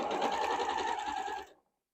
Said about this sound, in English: So let's take this over to the sewing machine and sew those together.